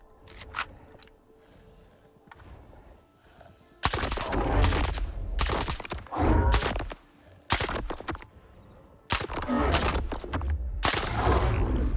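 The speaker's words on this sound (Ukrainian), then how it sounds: "Будемо стріляти чергами" Loud bursts of rapid rifle fire from STALKER 2, several sustained volleys separated by short quiet gaps, with a few quick single shots early on.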